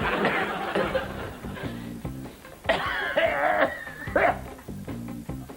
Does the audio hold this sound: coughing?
yes